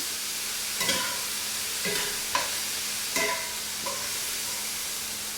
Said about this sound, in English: I'm sauteing the vegetables along with the meat.